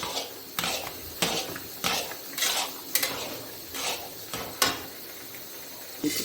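A spoon stirring carrot halwa in a pan, making rhythmic metallic scrapes and clinks about every half second, close and clear with no voices.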